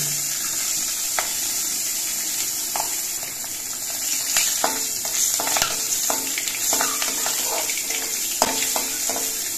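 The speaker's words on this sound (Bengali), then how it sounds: "এবার এই তেলের মধ্যে দিচ্ছি 2 টুকরো চেরা কাঁচা লঙ্কা আর অল্প করে একটু কালো জিরে।" Slit green chilies and nigella seeds hit hot oil, giving a steady bright sizzle with sporadic crackles and a few light utensil taps, close and alone.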